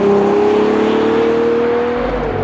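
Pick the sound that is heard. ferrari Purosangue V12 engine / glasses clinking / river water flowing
ferrari Purosangue V12 engine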